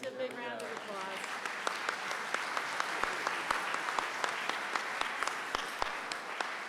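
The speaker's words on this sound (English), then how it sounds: "let's give a big round of applause." Round of applause from a conference audience at a medical foundation forum, sustained clapping with a few sharp claps standing out, with a voice speaking briefly at the start.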